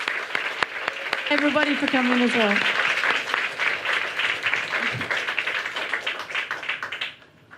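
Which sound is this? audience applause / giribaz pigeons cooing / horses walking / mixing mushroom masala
audience applause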